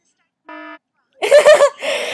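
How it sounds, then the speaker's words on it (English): A single steady electronic censor beep, about a quarter second long, then a pause followed by loud speech. "That was my sensor beep noise."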